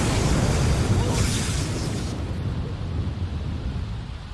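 Thunder from a lightning strike rumbles heavily with a deep, loud boom that rolls on and slowly fades, a brief crackling burst near its start.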